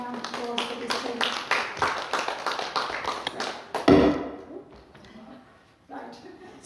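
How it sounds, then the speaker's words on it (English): Audience applause for a reading about walking the dog, a dense run of many hands clapping that swells and then tapers into scattered claps and quieter room noise. "Can we have a hand of a round of applause for this paper?"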